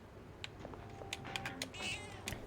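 A cat meows faintly in Persona 3 Reload, the Port Island outskirts at night, with a few short mews rising over the game's low background music.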